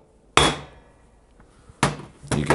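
Sharp metal strikes seat a seal on a Harley-Davidson Shovelhead engine: one crisp hit, a pause, then two more close together, loud and near with no talking.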